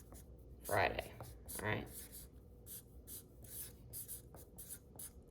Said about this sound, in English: So I'll write that back here in big words